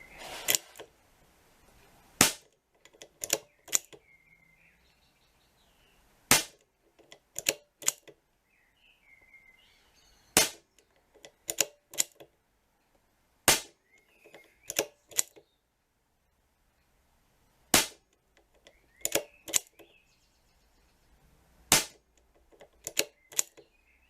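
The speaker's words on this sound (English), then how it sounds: "So that's 20 shots." An Air Arms S200 air rifle with an Altaros air cylinder fires a long string of sharp, snappy shots, each a crisp crack at irregular intervals, separated by quiet pauses and faint metallic clicks.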